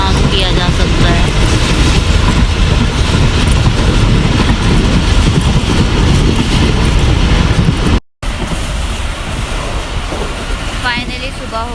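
Train running on the rails of a Karachi to Multan service, heard from inside the carriage: a loud, steady low rumble with rhythmic clatter throughout, broken by a brief dropout near the end.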